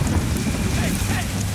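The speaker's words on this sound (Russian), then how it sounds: "Дождь этот вонючий." Dense, steady rain pours down in the game Tomb Raider Remastered as a loud, continuous wash of noise with no breaks.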